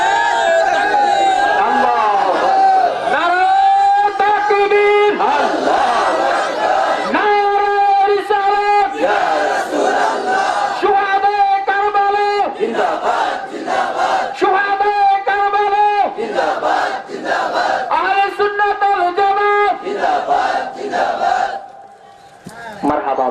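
A large crowd at an Islamic religious gathering shouts a takbir in unison, loud and sustained, with repeated chanted call-and-response waves of many voices overlapping densely for the whole stretch.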